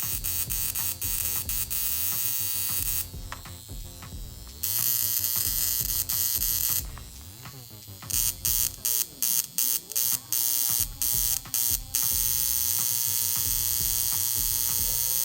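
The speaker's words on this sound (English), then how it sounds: "It's indirect high frequency to zap my blemishes." An indirect high frequency skincare device used to zap blemishes gives off a loud, close electric buzz, steady at first, then cutting on and off in rapid bursts before running steadily again.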